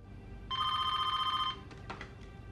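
A telephone bell rings once in a single steady burst of about a second, fairly quiet, followed by a few faint clicks, with no talking.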